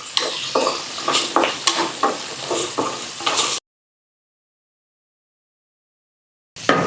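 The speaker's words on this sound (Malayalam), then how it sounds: "2 പച്ചമുളക് നടുകെ കട്ട് ചെയ്തത്, ഒരു തണ്ട് കറിവേപ്പില നന്നായിട്ടൊന്ന് വഴറ്റി കൊടുക്കാം." Halved green chillies and a sprig of curry leaves sauté in a pan for a Kerala sambar, with rhythmic stirring scrapes over a soft sizzle. A sudden stretch of silence follows before the stirring briefly resumes.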